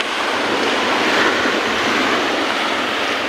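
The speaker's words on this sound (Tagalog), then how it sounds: "malakas ang alon" Strong sea waves break continuously along a shoreline where small fishing boats are pulled up, a loud, steady roar of surf with wind-like rush and no voices.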